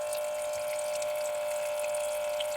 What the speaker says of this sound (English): So we're going to fill up the water till about here.